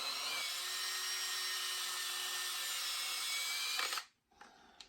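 A power drill fitted with a 1/8-inch bit bores a small hole during rear main seal work on a Porsche Boxster using homemade tools. A steady, faint high whine runs for about four seconds, cuts off, then briefly restarts.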